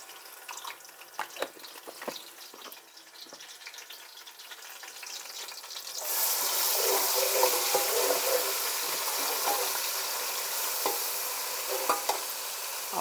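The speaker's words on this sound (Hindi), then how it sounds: "दो चम्मच डाल दें लहसुन अदरक के।" Garlic ginger paste drops into a hot pan partway through, and stirring scrapes come first, then a loud, continuous sizzle and crackle of frying that fills the rest of the clip, close and with no voices.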